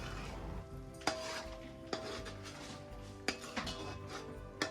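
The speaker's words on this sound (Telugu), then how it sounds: "ఇప్పుడు మన పన్నీర్ దాంట్లో కొంచెం కాజు వేసుకొని మంచిగా కలుపుకొని దాన్ని ఉడికించుకుందాం మంచిగా" A paneer and cashew curry stirred in a pot, with a few sharp spoon-against-metal clinks and scraping over a steady low sizzle, close and fairly quiet, no talking.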